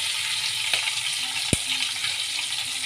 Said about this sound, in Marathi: आता याच तेलामध्ये आपण कढीपत्ता टाकायचा आहे, लसूण टाकायचे आहे।